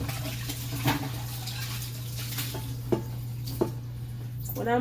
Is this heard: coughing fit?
no